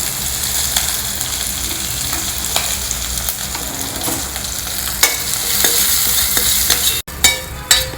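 Green chilies, curry leaves and hing frying in hot oil with mustard seeds for a South Indian tempering, sizzling and crackling steadily up close, with a few sharp pops and a brief clatter near the end.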